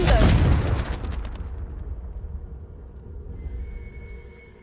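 Confringo blasting spell explosions in Hogwarts Legacy, a loud booming blast up front that rumbles and fades over a few seconds, with faint game ambience trailing behind.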